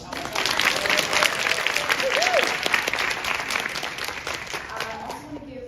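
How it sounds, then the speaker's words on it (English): Audience applause fills a climate week breakfast, a steady, dense wash of clapping from a crowd sustained throughout, with faint voices mixed underneath. "so please, a round of applause for them"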